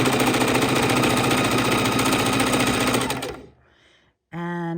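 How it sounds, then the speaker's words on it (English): A sewing machine runs fast and continuously while stitching a raw-edge appliqué Halloween pumpkin, then slows and stops, followed by a short whir. "I'm going to pull some seams or some stitching over here to make a little loop down the pumpkin"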